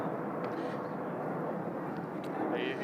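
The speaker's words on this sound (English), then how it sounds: "Sorry, you're competing with the plane." Airplane passing overhead at an outdoor youth panel at COP28, a broad steady engine rumble filling the background while people talk over it.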